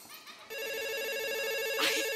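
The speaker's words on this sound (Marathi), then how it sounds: "फोन वाजतोय" Telephone ringing in a comedy sketch, a steady electronic warble that starts abruptly and keeps going, moderately loud, with a brief noisy rustle near the end.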